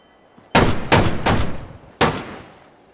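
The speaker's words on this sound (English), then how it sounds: "That sounds like a big gun, something we haven't seen yet." Four booming shots from a big gun in Fallout 76 ring out close and loud, three in quick succession and a fourth after a short gap, each with a long decaying tail.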